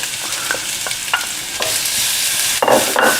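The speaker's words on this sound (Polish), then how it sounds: "No i smażymy sobie." Onion sizzles and crackles in hot oil, with repeated scraping strokes of a spoon stirring the pan at a steady rhythm.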